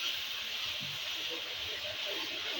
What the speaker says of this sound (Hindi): अब इसको हल्का सा फ्राई करते हैं, ताकि इसका भी कच्चापन ना खत्म हो जाए। ये देखिए, आवाज़ बंद हो जाएगी, ये जो शोर हो रहा है